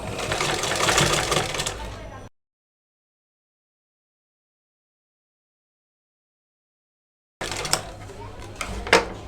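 A sewing machine stitches a bra-cut double-panel blouse, its rapid mechanical whirring running in two bursts, one at the start and one at the end, with complete silence between them.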